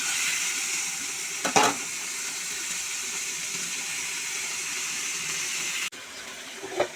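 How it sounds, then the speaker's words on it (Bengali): Sliced potatoes fry in hot oil on a stove as a side for chicken biryani, giving a steady, close sizzle throughout with a brief clatter of stirring near the start and a short break near the end. "এই চুলাতে আলুটা ভেজে নিচ্ছি"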